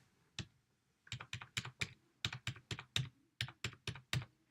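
Credit card details are typed on a computer keyboard, with quiet, close key taps arriving in short bursts after a single opening press, steady and crisp with nothing else heard.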